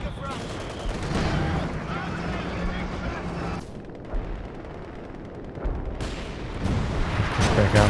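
Mortar rounds from a mortar pit thud and burst during a 3v3 Company of Heroes 2 match on La Gleize, loud heavy booms under steady commentary with a dense battle din behind.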